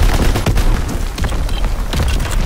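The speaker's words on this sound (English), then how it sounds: "Incoming enemy artillery." Enemy artillery fire in the game Call of Duty WW2, a loud sustained barrage of rumbling booms and gunfire blasts with no pause over about two seconds.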